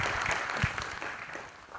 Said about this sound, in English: Please, one round of applause.